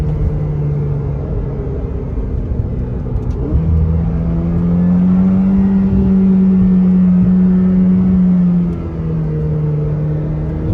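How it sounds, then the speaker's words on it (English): Ferrari F8 Spider accelerating hard on a hillside road, its engine note climbing and holding in a loud, steady roar for most of the run, then easing slightly near the end. "it's explosively accelerating up and down the hill."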